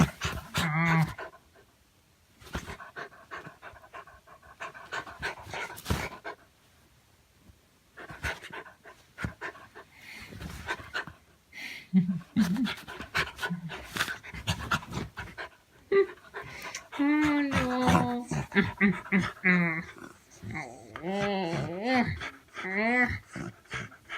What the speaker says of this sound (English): Good dog. Good dog.